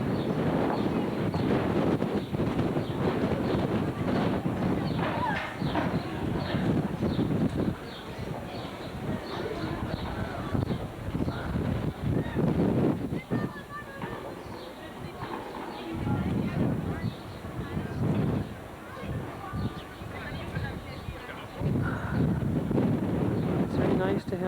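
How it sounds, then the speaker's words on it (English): Gusty wind at Mont St. Michel buffets the microphone in loud, uneven bursts that rise and drop, with people talking over it at times. "It is still windy on this side of Mont St. Michel."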